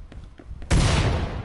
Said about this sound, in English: That was just an explosion.